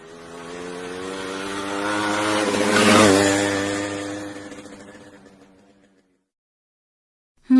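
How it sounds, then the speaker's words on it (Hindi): A motorcycle engine approaches, roars loudest as it passes close by, then fades into the distance, with a brief thump at the end. "मोटरसाइकिल।"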